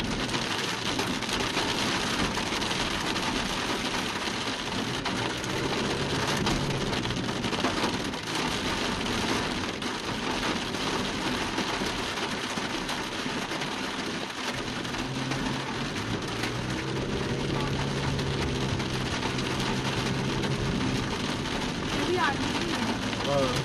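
Steady rain drums on a car as its automatic wipers run, a dense continuous hiss filling the cabin, with voices talking over it in places.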